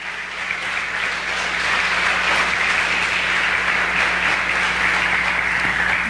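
A church congregation applauds together in steady, dense clapping that swells slightly and holds at full strength throughout, with a faint low hum underneath.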